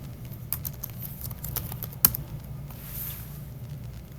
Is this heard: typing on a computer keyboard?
yes